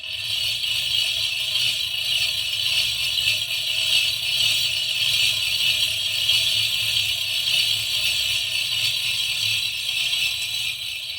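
A chain hoist being lowered: continuous rattling, clicking mechanism noise with a soft whir, steady and close throughout with no pauses.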